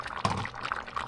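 Leftover cooking liquid from a tagine chicken dish is poured briefly, making a short, close splash and trickle with faint clinks, over in about a second.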